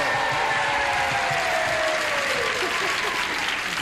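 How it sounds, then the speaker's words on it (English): A game show studio audience claps steadily and densely at close range, the applause holding a constant level throughout. "people are clapping for my husband"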